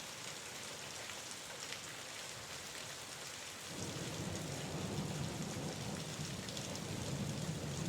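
Steady rain falling with deep thunder rolling in partway through, the rumble thickening the low end and continuing under the downpour, with no voices.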